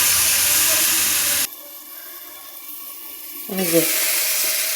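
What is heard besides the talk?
stirring turmeric in a sizzling pan for tomato recipe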